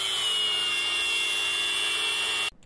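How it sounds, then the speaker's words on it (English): Angle grinder cutting structural steel for a trailer winch box, a loud continuous high-pitched whine held steady before cutting off abruptly. "we just cut all this stuff with an angle grinder"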